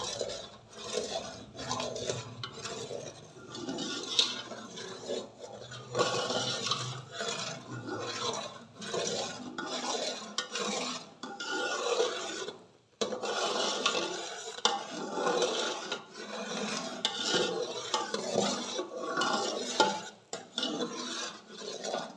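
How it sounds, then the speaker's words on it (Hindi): Sugar syrup with ghee stirred in a pan, a continuous close scraping and bubbling sizzle with rhythmic spoon strokes and no talk. "अच्छे से इसे साथ साथ हिला के मिक्स करते जाएं।"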